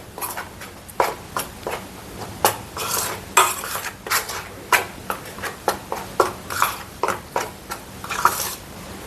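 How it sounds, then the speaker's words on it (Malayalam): A spoon clinks and scrapes steadily against a bowl while mixing cornflour, pepper powder and salt for gobi manchurian, a close, rhythmic series of sharp metallic taps and stirs without any talking. "ഇതിനാവശ്യത്തിനുള്ള ഉപ്പും കൂടെ ഇട്ട് നമുക്കിത് നന്നായിട്ടൊന്ന് മിക്സ് ചെയ്യാം."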